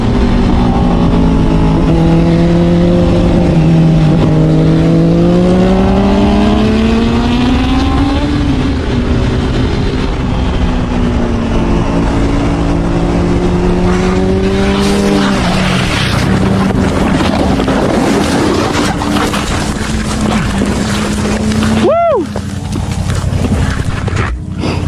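A motorcycle ridden on a bumpy road in Southern California, its loud engine rising and falling through shifting revs, close and dominant, ending in a sharp burst near the end with no talk.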